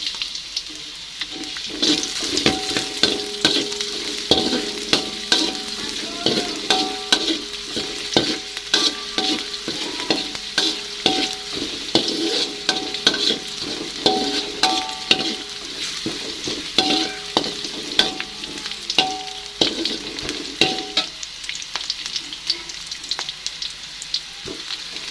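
Shallots and garlic fry in a pan, a steady loud sizzle with busy crackling and scraping stirs throughout, no voices.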